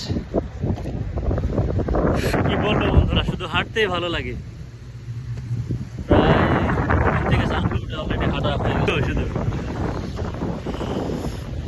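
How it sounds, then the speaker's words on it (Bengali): Strong wind beside the Tagus river in Lisbon buffets the microphone with steady, rough rumbling through the whole stretch. Someone talks over it for most of the time. "প্রচণ্ড বাতাস"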